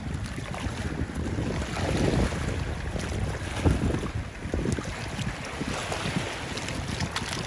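Strong wind buffets the microphone while waves slap and churn at Manila Bay, a rough continuous roar that swells in gusts with occasional louder splashes.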